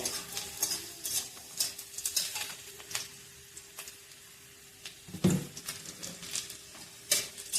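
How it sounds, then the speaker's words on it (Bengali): Ingredients, including black cumin, fry in oil in a pan before taro is added, producing a soft continuous sizzle broken by scattered clicks and scrapes of a utensil stirring, with one louder clatter midway and no speech. "ফ্রাই হয়ে আসছে, লাল হয়ে গেছে, কচুটা ছেড়ে দেব।"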